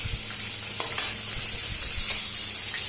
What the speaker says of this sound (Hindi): दोनों कढ़ाई में फिश बना रही हूँ, फ्राई कर रही हूँ